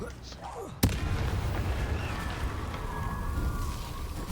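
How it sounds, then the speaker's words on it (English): A sudden loud explosion bursts from a Harry Potter video game, then a sustained rumbling, crackling roar that fades slowly; a faint voice and soft game sounds come before the blast. "Explosions hurt."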